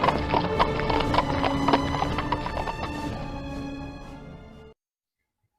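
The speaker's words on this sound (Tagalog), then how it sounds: "kabayong sasakyan niya" Hooves of a riding horse clip-clop in a steady rhythm at close range, with a neigh mixed in, before the sound cuts off abruptly to near silence.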